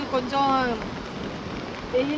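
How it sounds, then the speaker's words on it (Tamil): Heavy rain falling at night in a coastal town, a steady hiss of drops spread evenly across the clip with a few brief tonal sounds over it and no speech. "ஆனால் மழை விடாமல் பேஞ்சிக்கிட்டு இருக்குது"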